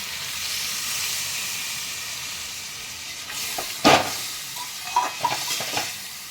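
Water poured into a hot pan of mixed vegetables, a steady hiss of frying giving way to a sudden loud burst of steam and sputtering, then smaller crackling spurts, close and without voices.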